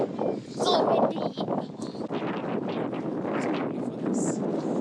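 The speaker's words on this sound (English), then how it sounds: "So windy." Strong wind gusts buffet the microphone at the Haleakala summit in Hawaii, a loud, continuous roar with rising and falling surges; a voice speaks briefly in the background.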